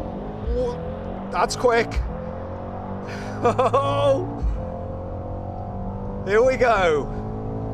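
A Mercedes-AMG GT four-door launches hard on a standing quarter-mile run, its engine note climbing through several sharp upshifts in quick succession while someone speaks briefly over the noise.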